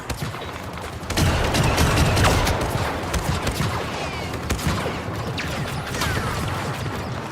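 Gunfire in Star Wars Battlefront 2, dense overlapping blaster shots and bursts with crashes and mechanical clatter, loud and sustained throughout with no talk.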